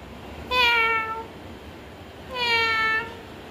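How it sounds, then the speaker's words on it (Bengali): A cat meows twice, each call long and clear with a falling tone, spaced about two seconds apart over quiet room background. "ম্যাও এসেছিল"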